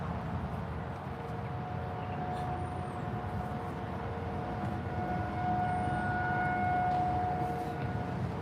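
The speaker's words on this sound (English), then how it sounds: "Just waiting for the siren to stop." A distant siren holds a steady, thin wail over a constant broadband rumble of traffic-like noise, with a few faint high chirps above.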